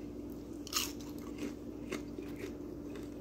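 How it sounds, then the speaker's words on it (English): Crunchy bites into fries dipped in homegrown ketchup, a sharp crunch near the start followed by a few softer bites and chewing up close against a steady low room hum. "I have some fries here. I'm going to try out this ketchup."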